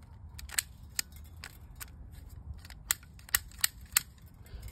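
Toy cap gun firing: sharp, fairly loud snapping pops, several in a loose irregular burst, clustered toward the end over a low rumbling background, with no talking.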